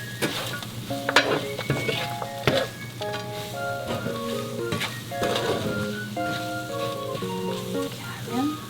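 Stir-fried anchovies and walnuts sizzle steadily in a pan with a touch of sesame oil, a spoon scraping and clinking close up as the mixture is stirred.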